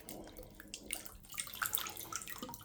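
Water gurgles and splashes in small bursts as a toy dinosaur held underwater is squeezed so water flows into it, close and fairly quiet with irregular bubbling and drips.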